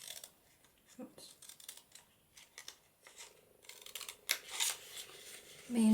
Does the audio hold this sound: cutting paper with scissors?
yes